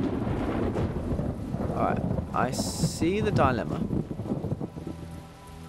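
Rain hisses and thunder rumbles low throughout a scene in the video game The Talos Principle, with someone talking over the storm.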